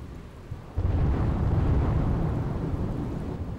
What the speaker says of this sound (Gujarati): ધોધમાર વરસાદ